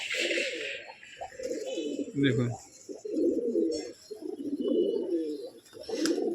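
Domestic pigeons, including a fine-quality male, coo in repeated low rolling phrases close by, with someone speaking briefly over the steady cooing.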